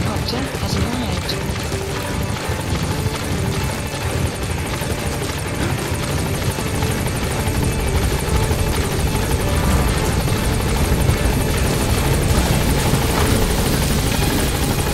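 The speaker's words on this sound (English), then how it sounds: "Support helicopter has arrived." Support helicopter from Metal Gear Solid V arriving at a landing zone, its steady rotor roar loud and continuous throughout, with game voices talking over it.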